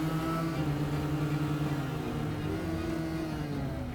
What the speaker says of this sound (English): You can hear the engine yell.